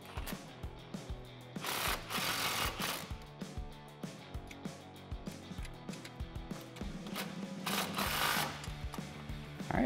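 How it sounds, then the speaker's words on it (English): Ratchet with a 14 mm socket tightening a ReadyLIFT 4-inch lift kit bolt on a 2009-2018 Ram 1500, steady rhythmic clicking strokes close up, with bursts of louder rasping noise. "Grab your 14 socket and tighten this down."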